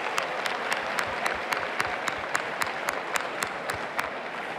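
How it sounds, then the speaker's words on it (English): A large audience at a county State of the County event gives sustained applause for the evening's sponsors, a dense, even wash of clapping with a few sharp, regular knocks standing out on top. "Let's give one more big round of applause for all of tonight's generous sponsors"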